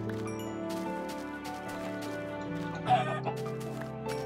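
A Minecraft chicken gives a few soft clucks over steady background music, with one slightly louder cluck partway through.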